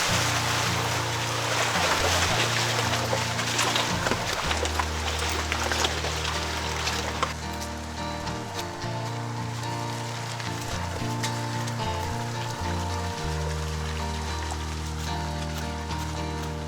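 Water from a creek flows steadily beside a hiking trail, a continuous rushing wash heard close and alone with no talk over it.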